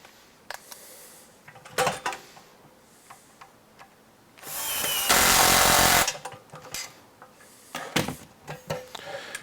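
A screw is tightened on an HPI Baja 5SC SS RC car build, heard as a sustained power-driver whir of about a second and a half, loud and close, framed by scattered clicks and handling of parts.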